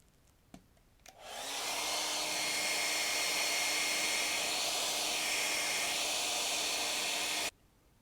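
A heat gun blows hot air onto the leg of a Kali statue from The Golden Voyage of Sinbad, starting after a couple of faint clicks and holding a steady, close, loud hiss with a faint hum before cutting off abruptly.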